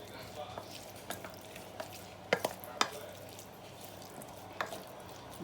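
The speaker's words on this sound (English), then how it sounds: "what I am going to do is to just mix this all together" A spoon stirs ground beef lasagna filling in a pan, giving a soft steady scraping and faint sizzle broken by a few sharp clicks of the utensil against the pan.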